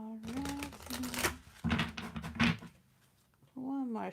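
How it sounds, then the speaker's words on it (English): Tarot cards being shuffled during a live reading, with papery riffling bursts under a woman's speech and humming. "One more shuffle."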